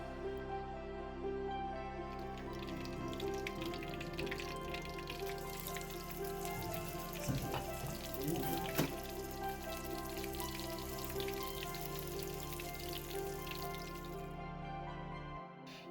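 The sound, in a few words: singaras deep-frying in oil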